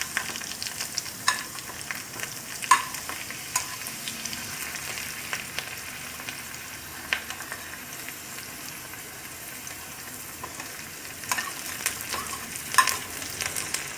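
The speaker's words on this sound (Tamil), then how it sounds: "அது ஃப்ரை ஆன பிறகு நீங்கள் இஞ்சி, பச்சை மிளகாய், கருவேப்பிலை, கொத்தமல்லி எல்லாத்தையும் போட்டு நல்லா தாளிச்சுக்கோங்க" Mustard seeds, lentils, ginger, green chillies, curry leaves and coriander tempering in hot oil, a dense steady crackling sizzle close by with occasional sharper pops and stirring clicks, no voices.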